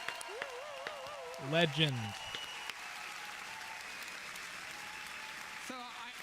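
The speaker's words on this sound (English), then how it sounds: "Someone clap at home. I will clap again." A few scattered hand claps sound faintly among voices, with some people talking and a quiet room background.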